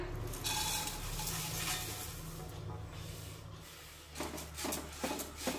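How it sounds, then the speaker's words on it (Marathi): Flattened rice (poha) is roasted in ghee over a low flame and stirred constantly, giving a faint, close, dry rustling and scraping with a soft sizzle underneath. "आता या राहिलेल्या तुपामध्ये हे 1 वाटी पोहे भाजून घेऊया"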